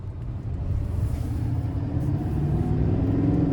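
2025 GMC Sierra 2500HD AT4 with a Duramax turbo diesel V8 pulling away on the road, a deep steady engine rumble building slightly from inside the cab, with no talking.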